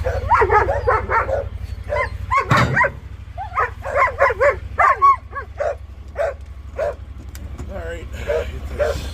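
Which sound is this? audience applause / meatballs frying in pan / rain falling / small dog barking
small dog barking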